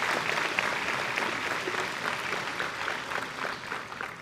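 Graduation crowd at a technical college ceremony clapping for the graduates, steady broad applause filling the hall throughout with no voices on top.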